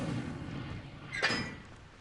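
An Incendio fire spell cast in Hogwarts Legacy bursts out as a single sharp whoosh-crack midway through, moderately loud, after a low rumbling background.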